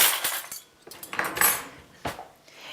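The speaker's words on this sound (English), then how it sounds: "We'll get a couple of forks." Metal forks and cutlery are picked up in a home kitchen, a close, loud run of clinks and rattles in bursts with short pauses, no talking.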